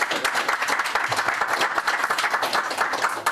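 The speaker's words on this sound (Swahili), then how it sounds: "Piga makofi." Dense, sustained applause from a crowd at a county budget gathering, many hands clapping loudly and continuously throughout without a break.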